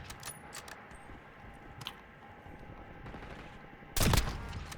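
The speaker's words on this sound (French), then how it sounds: "On me tire dessus." Gunfire in the video game Warzone: scattered distant shot cracks early on, then a loud, close burst of rapid fire near the end over a low game ambience, with no speech.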